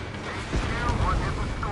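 Rumbling bursts of explosions like fireworks in the combat flight game Ace Combat 7, a dense, loud low roar with overlapping booms and engine drone throughout.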